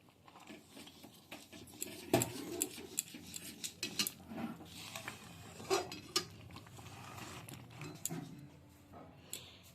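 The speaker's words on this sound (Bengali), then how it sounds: "এবার গ্যাসের আঁচটা বাড়িয়ে এটা খুব ভালো করে মিশিয়ে একটা ডো তৈরি করে নিচ্ছি" A spoon scrapes and knocks against a pan as mung dal dough is worked over the heat, giving irregular clinks and scraping strokes, close and fairly quiet, with no voices.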